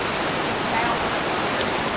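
Steady rain falling on and around a boat's bimini canopy, a dense, close hiss of drops with no break across the whole stretch.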